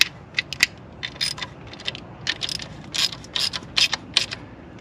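Irregular, close ratchet clicks in quick bursts as a ratchet snugs the bolts on a thin tin valve cover, with brief gaps between strokes and no talking.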